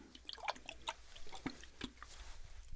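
Soft, close water sounds for ASMR: scattered drips, splashes and light liquid taps in an irregular rhythm, quiet and intimate.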